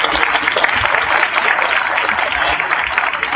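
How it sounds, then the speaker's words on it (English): Audience at an NAACP Kansas City education forum applauding Sister Rosa, a loud, continuous patter of many hands clapping in a hall, steady throughout with a faint murmur of voices. "Let's give Sister Rosa another round of applause"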